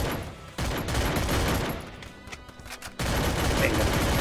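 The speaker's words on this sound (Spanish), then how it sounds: "me están disparando" Dense rapid gunfire bursts from the mobile battle-royale shooter Free Fire, loud and continuous with a brief lull in the middle before the shooting resumes at full intensity.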